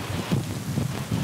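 Strong stormy wind at a campsite, gusting hard against an awning that catches it like a sail, a loud roaring rush with buffeting microphone noise and rustling throughout.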